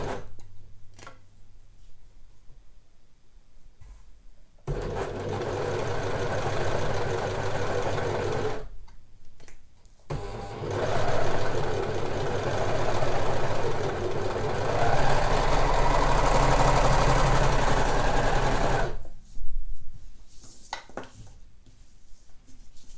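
Overlocker stitching the side seams of a ribbed sweatshirt hemband, running in two loud continuous bursts of steady mechanical whirring with short pauses between them.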